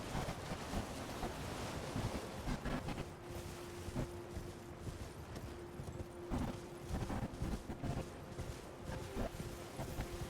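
Waves washing and water splashing in Elden Ring: Shadow of the Erdtree as a character runs into the sea, a steady rushing surf with irregular splashes and a faint sustained tone, fairly quiet and without talk.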